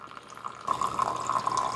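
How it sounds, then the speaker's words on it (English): Water and vinegar solution running through a Cuisinart DGB-2 Grind & Brew coffee maker during a descaling cycle, a quiet trickle that swells into a steady, louder stream of flowing water after a faint start. "So it's going to run the vinegar and the water through the machine."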